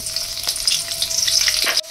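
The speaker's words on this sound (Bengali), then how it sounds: "কড়াইয়ে আমি তেল দিয়ে দিয়েছি, পকোড়া ভাজা তেলটাই দিয়েছি কিন্তু অল্প পরিমাণে দিয়েছি। প্রথমে লঙ্কা কুচিটা দিয়ে দিচ্ছি" Chopped green chillies sizzle in a small amount of reused frying oil in a wok, a steady loud crackling hiss that runs unbroken for nearly two seconds before cutting off.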